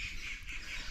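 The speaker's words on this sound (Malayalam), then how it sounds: "നിങ്ങൾക്ക് പല സൗണ്ട് ബാക്ക്ഗ്രൗണ്ടിൽ കേൾക്കുന്നുണ്ടാവും അല്ലേ," Birds call in a brief, continuous chorus of high chirps and squawks, moderately distant, over a soft low background rumble.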